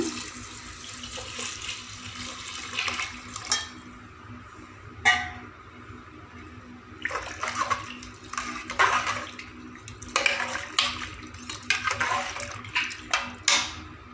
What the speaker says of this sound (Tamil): மூணு டம்ளர் அரிசிக்கு ஆறு டம்ளர் தண்ணிங்க ஊற்றிக்கலாங்க